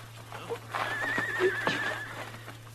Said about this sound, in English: I'll take my horse then, Ellen.